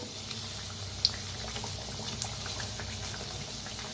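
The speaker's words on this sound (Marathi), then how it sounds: "छान तळून घ्यायचं दोन्ही साईडने" Vadas fry in oil as a steady, bubbling hiss, fairly soft and even, with a single sharp click early on and no voices.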